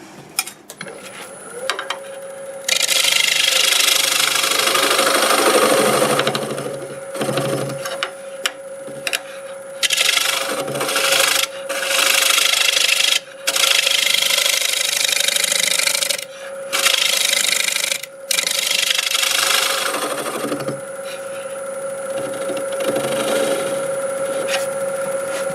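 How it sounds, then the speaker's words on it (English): A negative rake scraper rasps against a black walnut bowl turning on a lathe, a loud scratchy scraping in long passes broken by brief pauses, with a steady motor hum running underneath. "I think I'll go over it with the negative rake scraper"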